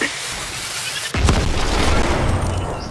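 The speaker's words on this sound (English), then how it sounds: "And there's the grenade." A grenade goes off in Fortnite: after a second of quiet background there is one sudden loud boom that rolls into a heavy, sustained rumble lasting to the end.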